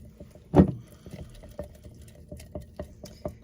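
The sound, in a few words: mixing sourdough starter in a jar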